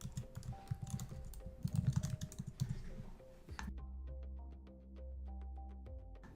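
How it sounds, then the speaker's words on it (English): Keys clatter on a computer keyboard as a business name is typed, a quick irregular run of crisp close taps that then thins into sparser, lighter keystrokes over a soft steady hum. "Now type in your business name."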